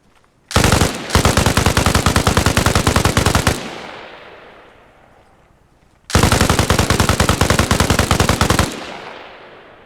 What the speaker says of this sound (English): Grab the squad automatic weapon from the bench.